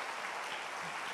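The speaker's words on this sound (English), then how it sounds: "A hand clap to Jesus." A church congregation at a prayer and fasting service claps together in a brief, steady burst of applause.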